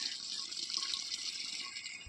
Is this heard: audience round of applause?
no